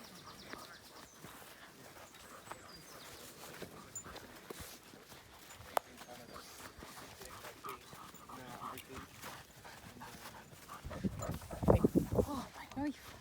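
A foster dog whimpers and pants in a car, soft whines and breathing running under people talking, with a louder burst of movement and noise near the end.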